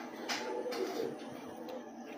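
Rooftop loft pigeons in Punjab give soft, continuous cooing at close range, a low burbling hum with a couple of brief sharper sounds over it.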